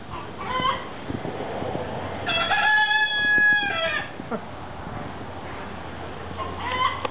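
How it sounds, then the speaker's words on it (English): A chicken clucks and then lets out a strained, rooster-like crow in the middle, with more scattered clucking and farmyard fowl noise before and after, fairly close. "Chicken."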